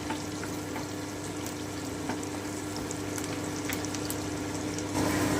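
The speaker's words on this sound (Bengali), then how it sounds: "আমি একটুখানি ভেজে নিচ্ছি বেশ ব্রাউন করে যেন পুড়ে না দেয়" Chopped garlic frying in a pan for butter garlic chicken gives a steady, low sizzling hiss with a faint constant hum underneath, soft and even throughout with a slight rise in level near the end.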